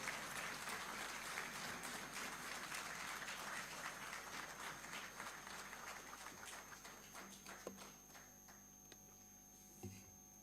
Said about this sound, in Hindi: एक बार जोरदार तालियों के साथ आप स्वागत करेंगे।